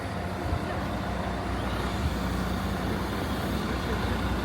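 A bus drives along on a journey through the flatlands of northern Japan, a steady loud engine rumble and road noise heard from inside, unbroken throughout.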